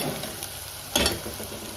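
Onions frying in a pan for a bottle gourd kofta curry, giving a soft continuous sizzle with one brief louder stirring scrape near the middle, close and without talk.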